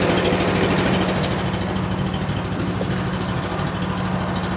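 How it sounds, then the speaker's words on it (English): A Honda motor drives a leaf blower with air tires, running steadily and close by with a constant droning hum and no pauses. "The Honda motor is pretty quiet."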